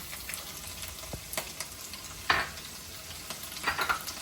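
Cumin seeds crackle in hot oil for a Punjabi-style rajma curry, a soft sizzle broken by a few sharp pops and clicks of a utensil, fairly faint and with no talking.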